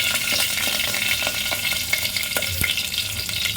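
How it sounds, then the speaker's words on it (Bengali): Bay leaf crackles in hot oil in a pressure cooker alongside cumin and dried chilli, giving a close, steady sizzle with scattered pops and a few light knocks. "তেজপাতা ফোড়ন দিলাম"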